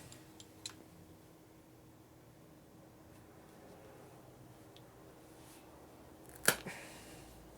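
A vent hose is cut during a 2001 Indian Scout motor rebuild: one sharp snip near the end of an otherwise quiet stretch with a few faint ticks.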